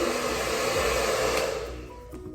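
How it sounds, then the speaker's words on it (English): A handheld hair blow dryer runs without its diffuser attachment, a steady loud rushing whoosh with a faint motor whine that softens slightly toward the end; no one speaks. "when you turn on a blow dryer with air, without the diffuser, it moves, the hair moves"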